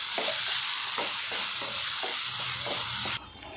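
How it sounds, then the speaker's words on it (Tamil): Chopped large tomatoes sauté with ginger garlic for a tomato kurma, loud frying hiss under repeated rhythmic spatula strokes against the pan, ending abruptly in a quieter fade. "தக்காளி பழம்லாம் ஒரு அளவுக்கு நல்லா வதங்கிருச்சு"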